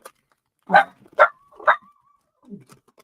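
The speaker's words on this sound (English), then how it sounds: "I'm not sure what Bailey's barking at." Dog Bailey, indoors, lets out three sharp, close barks spaced about half a second apart, followed by a softer low whine or grumble after a short pause.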